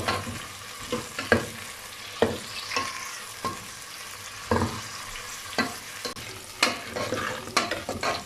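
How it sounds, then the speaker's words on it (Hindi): Onions fry in hot oil in a pan for a Kashmiri daal chawal recipe, with a soft steady sizzle broken by repeated scraping stirs, close and fairly quiet, no voices. "प्याज को 2 मिनट के लिए फ्राई करेंगे।"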